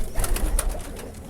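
Tube light breed pigeons, a bajrai variety, give a brief low coo, close up, over faint background hiss and a few soft rustles.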